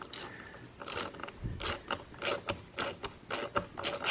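Screws are run in snug while an RV slide topper awning is being fitted, giving repeated short ratcheting, clicking bursts in an irregular rhythm, close and moderately loud, with no voices.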